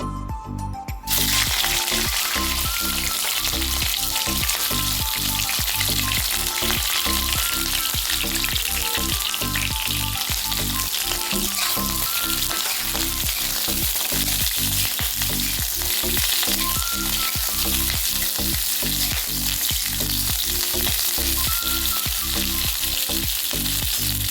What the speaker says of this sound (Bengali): এরপর ফুলকপিটা আমি ভেজে নেব।